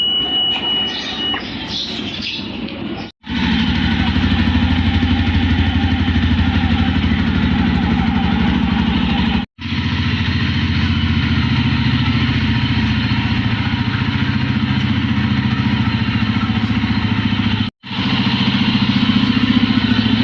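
A motorcycle engine starts and settles into a loud, steady close-up idle. The idle is broken twice by brief dropouts, and no one speaks.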